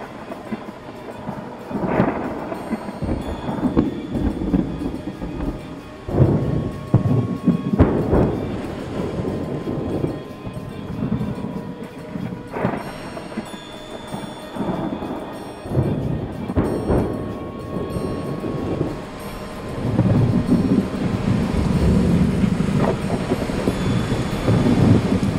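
A thunderstorm with repeated rolling thunder rumbles and rain, deep booms rising and fading irregularly over a steady wash of rainfall, loud and close with no talking.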